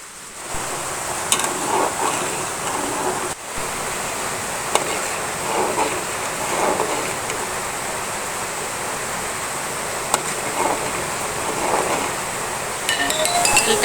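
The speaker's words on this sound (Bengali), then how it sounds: "এটা ভাজতে ভাজতে তেলটা একদম পুরোপুরি হয়ে যাবে।" Grated coconut fries in a pan to render coconut oil, giving an even, close sizzling hiss throughout with occasional light clinks of stirring.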